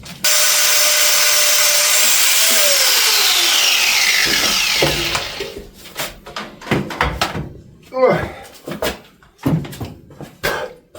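An angle grinder fitted with a grinding disc cuts through metal while fitting an oil cooler, a loud steady whine running for about four seconds, then it winds down and is followed by clanks, handling noises and a person talking.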